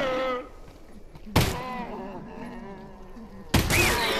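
Two loud, sharp gunshots from the VR game Half-Life: Alyx on Quest 2, spaced about two seconds apart, each with a short decaying tail, with a voice speaking between them.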